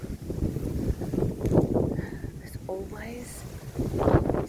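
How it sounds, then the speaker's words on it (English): Gusty wind buffets the microphone in a low, steady roar while a person speaks over it; a few faint bird chirps come through. "So sorry about the wind."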